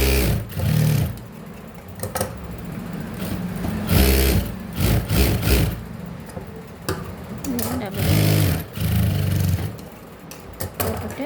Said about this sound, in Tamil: டபுள் தையல் போட்டுக்கோங்க